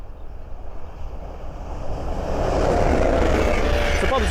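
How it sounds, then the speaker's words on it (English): An LNER 225 set, a Class 91 locomotive leading with driving van 82 at the rear, passes on the East Coast Main Line at Great Wymondley: a rising whoosh and rumble that builds from distant noise to a steady loud roar. "the next train to pass by is an LLER 225 set."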